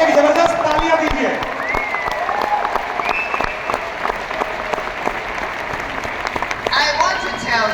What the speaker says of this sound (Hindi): Let's give a big round of applause to Kevin.